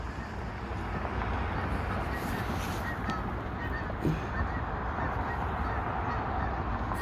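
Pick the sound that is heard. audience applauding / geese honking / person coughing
geese honking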